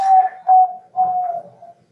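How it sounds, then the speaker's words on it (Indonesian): A bird, probably a pigeon or dove, gives three soft tonal coos in quick succession, close and clear against otherwise silent surroundings. "Kedengaran suara burung nggak?"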